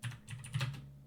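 Keys tap quietly on a computer keyboard in a brief flurry of soft, close clicks with no voices.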